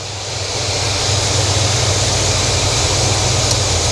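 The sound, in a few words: 6.0 LS V8 engine of Yukon Denali idling at ~800 RPM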